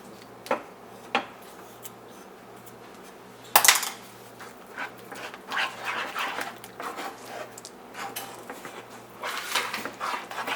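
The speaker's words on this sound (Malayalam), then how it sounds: "നന്നായിട്ട് ഇത് ഇളക്കി കൊടുത്തുകൊണ്ടേയിരിക്കാം." Play dough mixture being stirred in a pan, with intermittent scraping and clinking of a utensil against the pan, a sharp knock partway through, then busier scraping toward the end, close and without talk.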